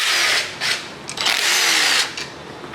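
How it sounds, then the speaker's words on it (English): A power tool whirs in short bursts to remove the 10mm timing cover bolts on a 5.3L LS LM7 V8, loud and close, a high motor whine that cuts out between bolts. "Now we can remove the bolts that hold the timing cover on. They're 10mm"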